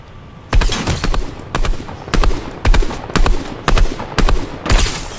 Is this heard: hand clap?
no